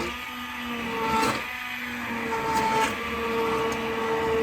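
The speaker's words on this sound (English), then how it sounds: "see the immersion blender in action" A handheld immersion blender whirs continuously at close range, its motor pitch shifting slightly as it churns through thick winter squash soup.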